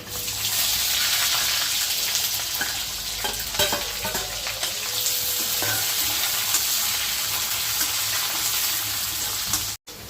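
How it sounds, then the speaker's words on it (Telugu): Onions sizzle and crackle steadily in a pan of hot oil with garlic and dried red chillies, a loud, continuous frying hiss with occasional stirring scrapes. "కొద్దిగా వేగనిచ్చి ఎర్రగడ్డలు వేసుకున్నాము."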